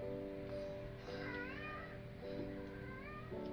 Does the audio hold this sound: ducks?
no